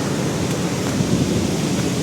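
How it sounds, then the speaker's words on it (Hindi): Heavy rain pours down in a dense, continuous hiss with a deep rumbling undertone, steady and loud throughout, near waterfalls in Coorg, Karnataka. "इतनी ज़्यादा तेज़ बारिश हो रही है"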